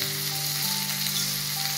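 Coriander seeds roast in a hot pan, giving a steady close sizzle with a faint tonal hum underneath, constant and unbroken with no talk.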